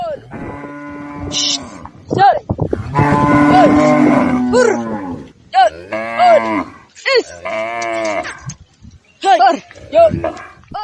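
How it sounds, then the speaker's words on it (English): A herd of cattle being driven by herdsmen in Adamawa, Cameroon moos loudly and close, with long overlapping calls and shorter lowing, plus a few barks and some voices. "They are shepherding herds of cattle to an unknown destination."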